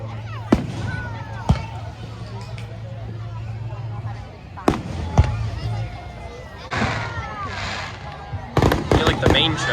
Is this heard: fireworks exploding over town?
yes